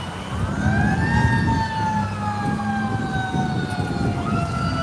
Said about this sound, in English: Look, the ambulance is newly coming.